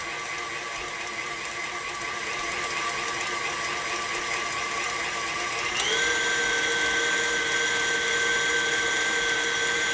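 A steady electric mixer whirs through whipped cream for a berry tiramisu, its pitch stepping up and growing slightly louder partway through as the speed changes, with no talk over it.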